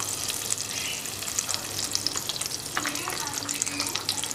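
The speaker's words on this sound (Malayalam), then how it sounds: "അപ്പോൾ അതിനായിട്ട് നമുക്ക് കുറച്ച് ഓയിലും കൂടെ ചേർക്കാം" Oil poured into a pan of melting butter for a restaurant-style butter paneer masala sizzles and fries steadily, close and fairly loud, with faint bubbling crackle throughout.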